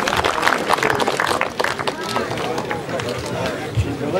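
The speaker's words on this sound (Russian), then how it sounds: "Аплодисменты!" Audience at a fight applauding, with dense, steady clapping and crowd noise throughout, mixed with a voice speaking over it.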